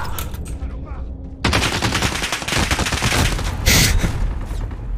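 Video game gunfire comes in dense, rapid bursts that sound like automatic fire, loud and harsh. A brief quieter stretch opens the passage, and then heavy shooting follows, with a speaking voice faintly underneath.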